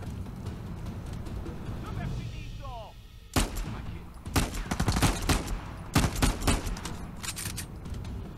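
Gunfire from a firefight in the Uncharted 4 video game, a burst of sharp shots after a quieter start, with rapid repeated reports and a few heavier single blasts scattered over the rest.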